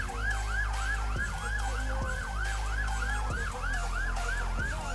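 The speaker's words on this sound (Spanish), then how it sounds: "En la compañía Garibaldi 6 sonaron las sirenas" Sirens from the Garibaldi 6 fire company in Chile wail in tribute, a loud, close, rapidly repeating rising-and-falling yelp over a steady low engine rumble.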